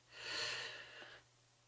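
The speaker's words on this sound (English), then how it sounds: "take a couple of deep breaths." A single deep breath drawn in through the nose during a guided meditation, a soft rushing inhale lasting about a second, close and gentle over a low steady hum, with no voice.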